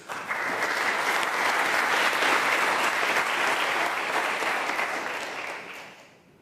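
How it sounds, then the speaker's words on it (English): Conference audience applauding a speaker at a market research event on social media research, a dense, sustained roar of clapping that holds steady for several seconds, then tapers off at the end with no talk. "Round of applause for Annie, please."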